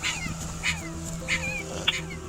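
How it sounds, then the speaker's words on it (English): Puppy trapped inside a hot car cries in distress, giving several short high-pitched whimpers and yips at irregular intervals over a low steady hum. "it's a puppy, and I can't see it, but it's crying."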